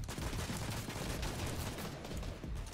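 Rapid bursts of gunfire in a battle royale video game, dense crackling shots running continuously at a steady, loud level with no voices.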